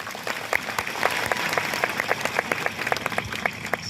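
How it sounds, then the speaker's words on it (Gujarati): An audience of elders, youths and women at a public gathering in Songadh, Ukai, gives a round of steady, moderately close applause with sharp individual claps standing out, lasting the whole few seconds with little talk. "બધા જ માટે એકવાર આપણે જોરદાર તાળીઓ પાડી લઈએ."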